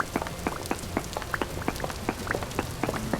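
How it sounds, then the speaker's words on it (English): Rain falling in the video game Vintage Story: a dense, steady patter of distinct droplet ticks striking a surface at an even pace over a soft background wash. "Oh, good. It's raining."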